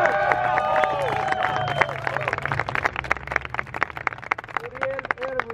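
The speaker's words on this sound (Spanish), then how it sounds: "dales este aplauso, chingón!" A crowd at a freestyle rap battle final in Saltillo breaks into applause with scattered cheers, dense clapping filling the space while an MC's voice rings over it early on.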